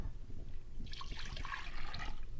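Juice pours from a cup into a beaker, a soft, brief liquid splash and trickle that starts partway through and continues faintly to the end in a quiet room.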